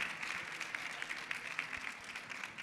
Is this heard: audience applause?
yes